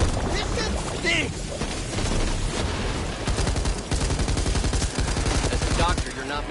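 Back 4 Blood SMG fire rattles in fast continuous bursts, dense and loud under overlapping game voices and shouting, with crashes mixed into the chaos.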